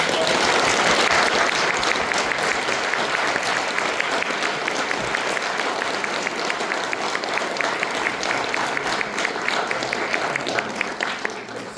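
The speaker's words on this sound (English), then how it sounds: "Let's give a lovely round of applause." Long, steady applause from a convention panel audience at a Star Wars Legends fan convention, many hands clapping densely at an even level before tapering slightly near the end.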